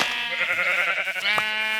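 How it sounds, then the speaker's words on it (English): Sheep in Minecraft with the Tekkit modpack bleat in a continuous, wavering call that runs nearly two seconds, loud and close, with a brief click near the end. "I'm going to make a lot of sheep."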